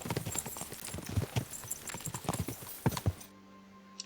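Hooves clip-clop in a fast galloping rhythm as a horse is ridden in the medieval game Kingdom Come Deliverance II, close and crisp, with irregular clattering beats before cutting to near silence.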